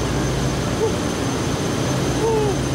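Engine running in a ship's engine room, a loud, constant, dense roar with steady low hum and broadband noise, close and unbroken throughout, with no talking.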